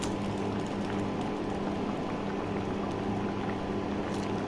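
Salted water boils in a cooking pot with stalks, eggplant, pumpkin, gourd greens and whole garlic, a steady, soft bubbling hiss that stays even from start to finish.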